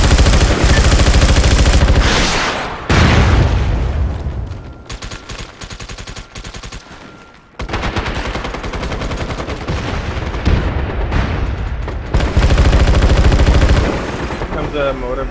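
A loud mortar and gunfire barrage in the online shooter MAG, during a bunker defense on Corvus. Rapid shots and heavy booms roll almost without a break, with a few short pauses.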